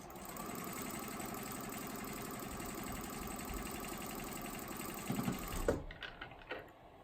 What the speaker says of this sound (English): Line up the second side in the same way. And sew that seam.